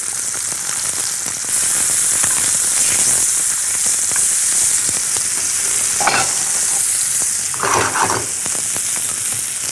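Onion sautéing in olive oil in a pan, a steady loud sizzle and crackle with occasional stirring scrapes throughout.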